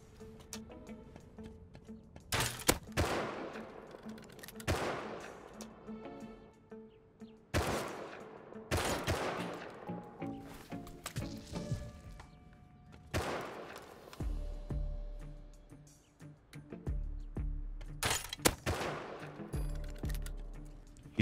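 Rapid bursts of automatic gunfire in the survival video game Rust, several loud volleys with short pauses between them, some crisp and close, others heavier, with no speech heard.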